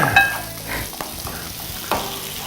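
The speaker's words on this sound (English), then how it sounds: "So you can stir that for me, that'd be great." An omelette mixture is stirred in a hot pan, with a soft sizzle and scraping strokes broken by a few sharp knocks of a utensil against the pan.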